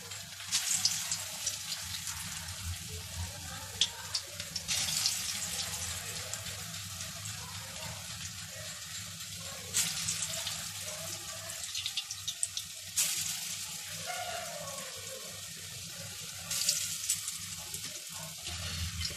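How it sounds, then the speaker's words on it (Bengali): Small red lentil fritters fry in hot oil over a medium flame, giving a steady, watery hiss and crackle with periodic louder surges, fairly quiet throughout. "আমি ততক্ষণে মুসুরির ডালের বড়াগুলো তেলের মধ্যে দিয়ে দেব"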